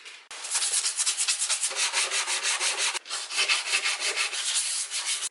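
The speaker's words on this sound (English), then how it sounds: "I've given them a sand and a clean" IKEA Kallax furniture being sanded by hand before priming, loud rhythmic back-and-forth rubbing strokes in quick succession, briefly pausing once midway, close and continuous with no talking.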